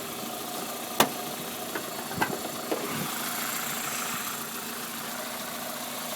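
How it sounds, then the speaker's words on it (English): Toyota Corolla T Sport with a VVTL-i engine idling quietly in an open engine bay, a steady low hum with light ticking and a few soft clicks, heard alone without talk. "Lovely, quiet engine."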